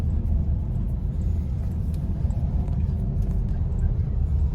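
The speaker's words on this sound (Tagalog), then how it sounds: "Super traffic po ngayon." Continuous low rumble of heavy road traffic near Tagaytay during roadworks, heard from inside a moving car as a steady drone with no break.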